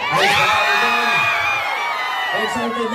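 A large crowd in an arena with upper box seating cheers and shouts loudly, overlapping high yells and whoops swelling together into a continuous roar, close and intense throughout.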